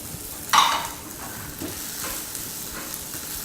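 Orzo tossed with diced onion and carrot in a hot pan gives a soft, steady sizzle with a sharp scrape or clatter of stirring near the start, then quieter frying.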